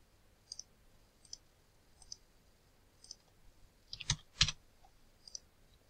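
Sharp mouse and keyboard clicks while files are copied and pasted on a computer, a sparse run of single clicks with a louder double burst in the middle, close and alone with no talking.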